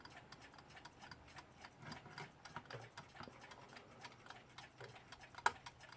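A reassembled Weltime alarm clock ticks quietly and evenly, a rapid regular run of small clicks with one sharper click near the end.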